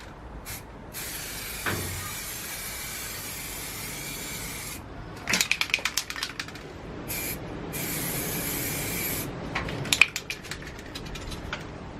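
Bursts of spray from a paint can or gun coat an engine bay in gloss white, each hiss lasting a few seconds with short pauses and small clicks between passes, close up with no talk.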